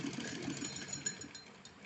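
Domestic sewing machine running steadily while stitching lace onto a small doll dress, a continuous close whir with a soft mechanical rattle throughout.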